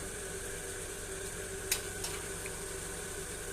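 Chicken karahi sizzling and bubbling steadily in a pan as green chillies go in, a constant close hiss with a couple of faint clicks.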